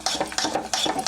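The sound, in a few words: mixing dosa batter with salt and soda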